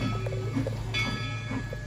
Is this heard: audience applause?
no